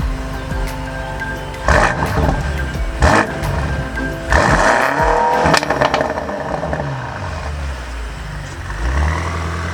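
A 2018 BMW M5 First Edition drives at speed, its engine rising and falling through swelling revs and sweeping passes with the roar of acceleration, loud and close.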